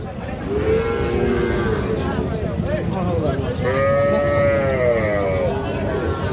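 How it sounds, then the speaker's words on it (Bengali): A heifer calf at a cattle market moos loudly and close by in two long drawn-out calls, with crowd noise underneath. "এইটা একটা বকনা বাছুর"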